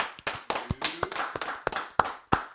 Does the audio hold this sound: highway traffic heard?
no